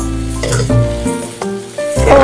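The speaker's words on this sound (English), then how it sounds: "Put sauce, like the package from the instant noodle, okay? And fry them again." Instant noodles fry with their packet sauce in a pan, a close, loud sizzle broken by scraping stirs, with music or tonal background audible throughout.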